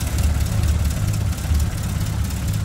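A GAZ-24 Volga engine idles cold with a steady, slightly uneven low rumble, close and continuous, with no voices over it.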